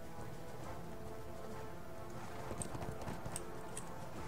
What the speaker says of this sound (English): Go away, horse.